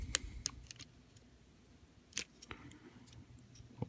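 Plastic parts of a Maketoys MTRM-07 Visualizers transforming toy are folded into place, a few faint, close clicks and ticks spread irregularly over a quiet background.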